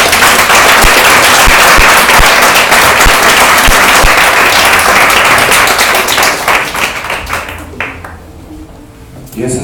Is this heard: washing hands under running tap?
no